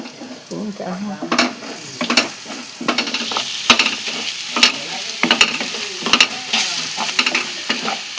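Ground spice masala for mutton curry sizzling and frying in a pan, stirred repeatedly with a spoon that scrapes and clinks against the metal in irregular bursts, close up.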